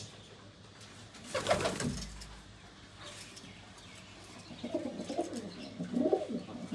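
Pigeons kept as a hobby give soft, low cooing calls in a few separate bursts. The coos are fairly close against a quiet background, and no one talks.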